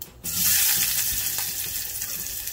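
Onions drop into hot oil with crackling mustard seeds, setting off a sudden loud burst of sizzling that then settles into steady frying, close-up and without speech.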